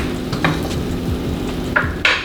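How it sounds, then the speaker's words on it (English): Butter sizzling in a hot pan where pork chops are being cooked, a steady close frying hiss with a few brief clinks and stirring scrapes over it. "I'm gonna finish with a little butter because we know butter makes everything better"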